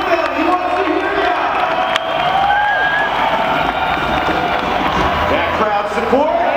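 Crowd at a BMX event in Estonia cheering and whooping continuously, a dense roar of voices with occasional whistles and shouts, loud and sustained throughout with an announcer's voice over it.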